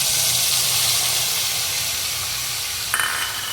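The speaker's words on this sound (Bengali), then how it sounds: "তেলের মধ্যে গোটা জিরে আর শুকনো লঙ্কা সম্বারে দিলাম" Whole cumin seeds and dried chillies sizzle steadily in hot oil in a pan, a loud continuous fry with a brief burst of sharper crackle near the end, no voices.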